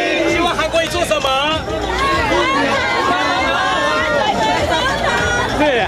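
A dense crowd of Han Kuo-yu supporters fills a busy night market in Kaohsiung with loud, continuous overlapping chatter and cheering voices all around, close and enveloping.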